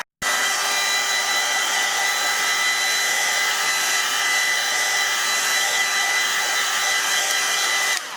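A hair dryer runs close and loud over a wet collage journal page of autumn leaves, switching on abruptly and holding a steady whooshing hum with a faint whine before cutting off.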